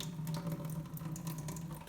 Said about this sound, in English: I'm gonna pour just a little bit of the juice out, but not much.